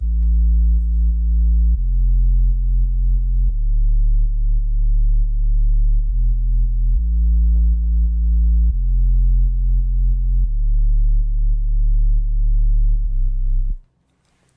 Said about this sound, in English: Next we have our bass line that sounds like this.